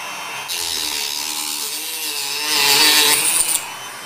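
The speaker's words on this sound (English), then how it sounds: "Once the solder has set, the rails can be cut. A Dremel is a useful tool for this." A Dremel rotary tool cuts through soldered model railway rails with a loud, close, continuous high-pitched whine. It runs for about three seconds, rises in intensity toward the end, then stops abruptly.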